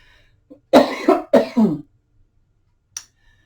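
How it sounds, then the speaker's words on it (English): A person coughs twice in quick succession, close and clear, followed by a short faint throat sound in otherwise quiet surroundings. "I cough sometimes when I talk a lot."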